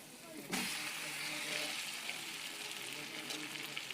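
Onions and green chillies fry in a pan, giving a soft continuous sizzle that swells after a brief clatter near the start and stays low and steady.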